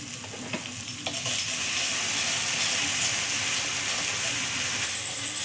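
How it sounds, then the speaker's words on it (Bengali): Spice masala with turmeric is stirred and fried in a pan for a Bengali pointed-gourd and peanut dish. A steady close sizzle runs under scraping stirring strokes and grows fuller after the first second. "মশলাটাকে এবার আমি ভালো করে নেড়ে চেড়ে কষিয়ে নেব।"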